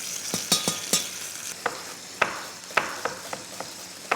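Onions and garlic with honey beginning to cook in a pan for a compote, with a few sharp utensil clicks and scrapes over a light sizzle, no voices.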